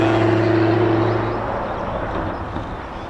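Distant jet engine of a US Air Force heavyweight such as a KC-135 or RC-135 tanker spooling up at RAF Mildenhall, a steady broad roar with a fading whine in the first second and a half.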